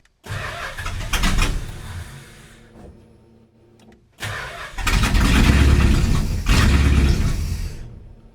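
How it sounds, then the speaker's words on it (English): A 1970 Plymouth GTX fitted with a FiTech six-barrel fuel injection cranks over twice, the starter whirring in two long bursts separated by a brief pause, loud and close, with the engine catching briefly before dying. "when I crank it should roll over"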